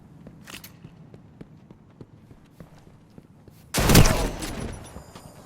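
Light rapid footsteps tick along quietly in Destiny 2, then one loud, close shotgun blast erupts and its rumble trails off. No talking is heard.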